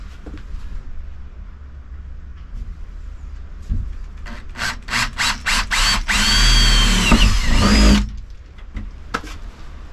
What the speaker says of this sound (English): Oh, I don't like drilling holes in a van.